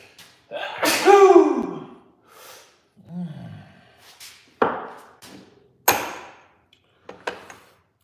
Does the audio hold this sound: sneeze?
yes